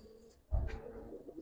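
Giribaz pigeons give a short, low coo that swells briefly at close range, with faint background noise before and after.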